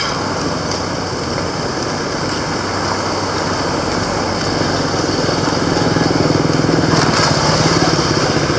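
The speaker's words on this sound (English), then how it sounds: "That motorbike almost hit me." A motorbike on a road near a roundabout under construction, its light engine buzzing steadily and close, growing slightly louder toward the end as it draws nearer.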